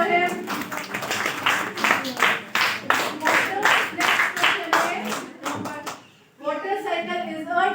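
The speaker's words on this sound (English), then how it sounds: "Clap for him." A classroom of children claps for a student during a social science lesson, giving a quick run of sharp, fairly even claps that stops abruptly, followed by a brief pause and then a teacher talking.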